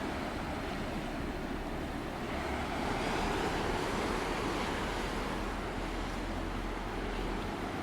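Turbulent surf breaks against rocks under strong wind, throwing spray, a dense unbroken roar of water that swells slightly midway, with heavy wind buffeting and no talking.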